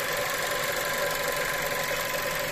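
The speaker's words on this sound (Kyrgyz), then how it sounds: "Мотору өтө сонун иштеп турат." A used Skoda Octavia with a 1.4 turbo engine idles under an open hood, giving a steady, even hum with a fine mechanical tick, close and unchanging, with no talking.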